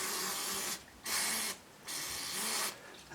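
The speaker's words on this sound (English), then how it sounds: "Just using the brake cleaner to get the soap and any residue of salt in there off." Brake cleaner hisses from an aerosol can onto brake parts in three sharp, loud bursts with short pauses between them.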